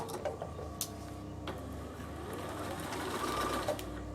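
A Bernina sewing machine stitches a fabric bag, a close, steady mechanical whirr with ticking needle clicks running continuously for the whole stretch.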